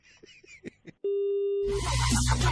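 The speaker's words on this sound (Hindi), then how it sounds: "मैं फोन काट रहा हूँ" A single steady electronic telephone tone sounds after a call is hung up, lasting under a second after brief muffled voices, then gives way abruptly to loud, dense noise.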